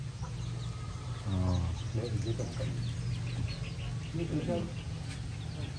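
Chickens cluck and cackle nearby in a yard, short bursts of calls scattered over a steady low background hum, with people talking at times.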